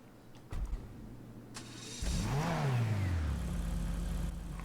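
A rear-engined Shaguar sports car in GTA starts with a sharp catch, then revs up with a rising, sweeping engine whine that settles into a steady loud idle drone, close and alone.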